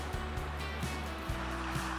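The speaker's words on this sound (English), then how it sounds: "that's a big spring up in there. A lot of water coming out of that." Steady, dense rush of water gushing from a big spring along the Bonneville Shoreline Trail near Logan, continuous and fairly close, with a low persistent hum underneath.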